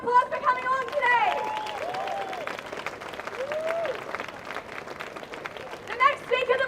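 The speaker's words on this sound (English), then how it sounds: "Give yourselves a round of applause for coming along today." A crowd at a protest against the far right applauds, steady clapping mixed with whoops and murmured chatter across several seconds, with shouting voices over the top.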